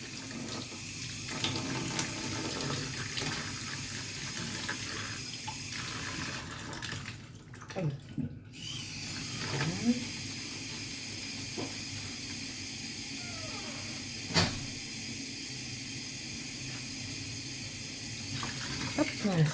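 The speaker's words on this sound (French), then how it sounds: "je régule le débit d'eau" Tap water runs steadily into a kitchen sink while radishes and carrot tops are rinsed, a constant close hiss with brief splashes and clatters, the flow changing briefly partway through.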